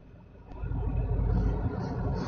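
Low, steady road rumble from inside a moving car, swelling after a quiet start and holding as a dense low-frequency drone with faint traces of voices.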